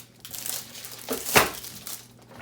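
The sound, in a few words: handling glossy sticker paper sheets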